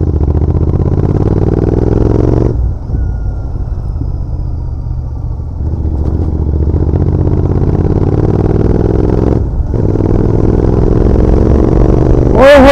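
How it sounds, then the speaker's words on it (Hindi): A Royal Enfield Continental GT 650 motorcycle with its twin-cylinder engine and exhaust runs close by, a steady loud thrum that twice drops briefly to a softer idle before rising again, with a short rev at the end. "ये OBD2 में जब साइलेंसर्स गर्म होते हैं तब इनका साउंड एक अलग आता है निकल के"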